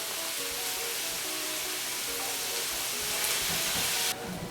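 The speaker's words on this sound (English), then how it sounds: "I'm at this point gonna add in some salt, a teaspoon, and sweat out all these onions" Chopped onions sweat in a pan with a teaspoon of salt. A steady, bright sizzle with soft crackling runs throughout at a close, even level and drops off abruptly near the end.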